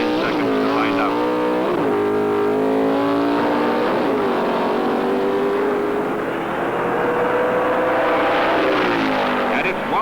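Pro Stock drag racing cars from 1971 NHRA competition roar loudly and continuously, engines rising and falling in pitch through gear changes with a steady dense throb throughout.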